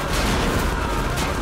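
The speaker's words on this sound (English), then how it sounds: "now I can shoot him" Dense, continuous gunfire from the Tales From The Borderlands video game, loud and close, with rapid overlapping shots forming an unbroken barrage.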